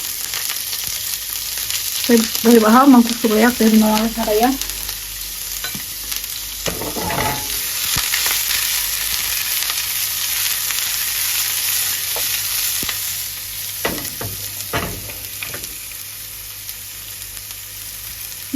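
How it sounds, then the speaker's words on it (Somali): Onion frying in olive oil and being stirred, a continuous sizzle with scraping stir strokes in bursts, while someone talks over it. "kadib waxaan ku shubaynaa in yaroo basal ah basasha si yaroo dhudhumaan soo karkaray"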